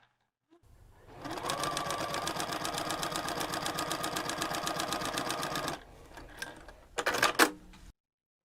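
A sewing machine runs steadily for about five seconds, stitching a quarter-inch 45-degree mitered quilt seam, a fast even needle rhythm up close, followed by a few brief handling clicks and rustles.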